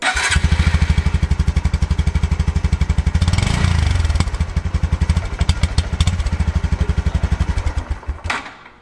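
2021 Honda Super Cub 125 with its air-cooled single-cylinder engine idling and being blipped close by, a rapid steady putter with a brief rev in the middle, then cut off at the end, no talking.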